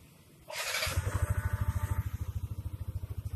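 A Yamaha Nmax 155 scooter starting by remote alarm: a brief whirring crank, then the engine catches into a fast, even, close idle with a pulsing rhythm.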